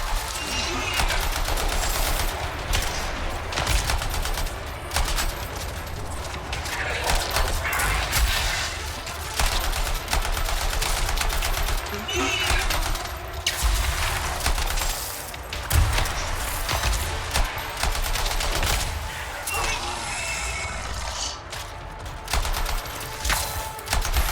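Dense, continuous automatic gunfire from the video game Anthem, rapid loud bursts of shots running the whole time with crashing impacts mixed in.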